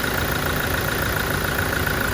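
A Toyota Hilux's 2.8 liter four-cylinder engine idles with the hood open, a close, steady mechanical hum with a faint rattling texture, unchanging and heard alone.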